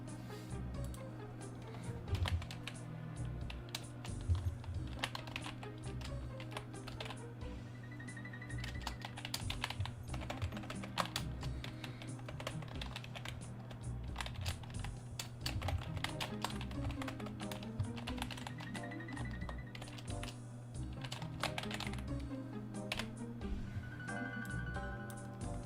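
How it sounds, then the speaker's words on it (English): Rapid, steady clatter of keys on a computer keyboard, fairly close and continuous with brief pauses, running alone for the whole stretch over a faint low background hum. "typing like a damn fool"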